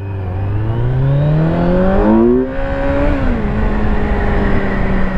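Kawasaki Z900 motorcycle engine revving hard and climbing in pitch as it accelerates into a wheelie, loud and close, then easing to a steadier drone.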